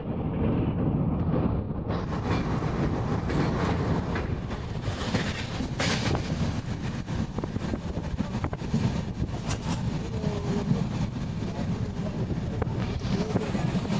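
A passenger train travelling toward Solapur Junction rumbles loudly and continuously from inside a carriage, with rhythmic clickety-clack of wheels over rail joints and occasional metallic squeals.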